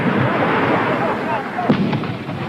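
A barrage of 122 mm rockets landing across a valley, heard as a loud, continuous rumble of blasts and bursts filling the whole stretch, with a voice talking over it.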